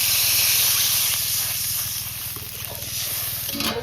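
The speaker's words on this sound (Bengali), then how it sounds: "এবার জল দিয়ে দেবো।" Water poured into a pan of frying potatoes with salt and turmeric sets off a steady, close hiss and sizzle that runs unbroken and fairly loud, with a faint low hum beneath.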